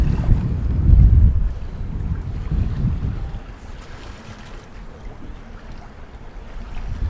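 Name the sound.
strong wind blowing over the bay, boat at anchor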